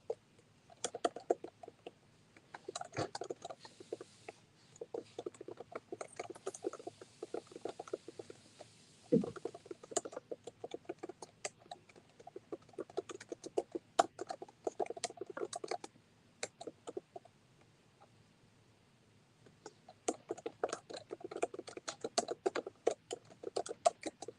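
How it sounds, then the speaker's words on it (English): Typing on a keyboard at a desk, close by: quiet, irregular clicking keystrokes in bursts separated by short pauses, with no talking. "I'm typing on this desk."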